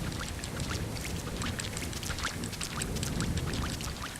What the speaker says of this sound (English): So those rain effects.